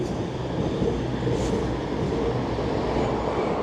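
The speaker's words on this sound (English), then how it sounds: "And we've got a train coming, so let's just film that train as it comes past." A train passes close by on a railway line near Kidsgrove station, a steady loud rumble and rolling wheel noise holding throughout with no voices.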